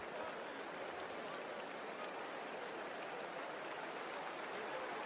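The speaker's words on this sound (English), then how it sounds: "the crowd gives him a little applause" A stadium crowd at a USC vs. Michigan State football game claps in steady, distant applause, a dense hiss of many hands held evenly throughout.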